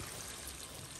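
Water pours into a fish curry in a pan, a short, steady, faint rushing stream.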